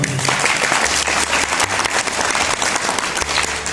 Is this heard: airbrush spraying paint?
no